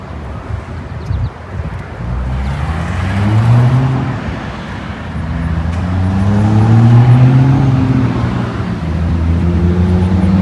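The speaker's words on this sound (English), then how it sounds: "New 351 Windsor, new exhaust, electric cutouts, new C4 transmission" A car fitted with a new 351 Windsor V8, new exhaust with electric cutouts and a new C4 transmission drones steadily while driving, its engine pitch rising and falling through gear changes, with some wind noise throughout.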